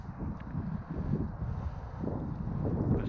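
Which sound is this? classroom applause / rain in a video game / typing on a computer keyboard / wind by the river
wind by the river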